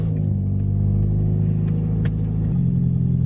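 Car traffic heard from inside a vehicle, a loud steady low engine rumble with a slight shift in pitch near the end, plus a few faint clicks and knocks.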